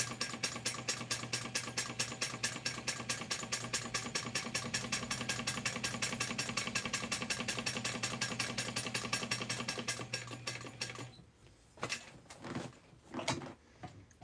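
A sewing machine stitches a quartz clutch in a fast, steady, close-up rapid rhythm for about ten seconds, then stops, followed by a few separate clicks and handling knocks.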